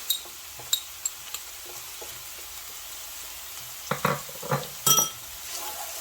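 Green chillies fry with tawa chicken masala in a pan, a low steady sizzle under scattered clicks and spoon scrapes, with a cluster of louder stirring knocks near the end.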